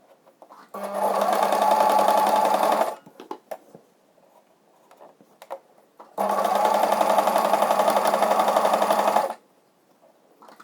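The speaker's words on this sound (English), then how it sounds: "And here goes zigzag stitch just to hold in place." A sewing machine zigzag-stitches a nursing bralette in two steady, close whirring bursts of a few seconds each, separated by a pause with faint handling clicks and rustles.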